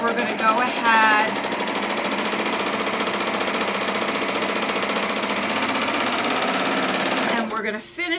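A serger runs continuously at high speed, finishing the edge of a tote bag pocket with a dense, loud, even buzzing whir that stops abruptly near the end, and a voice speaks briefly over the start.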